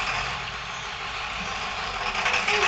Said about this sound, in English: See, the truck is turning around.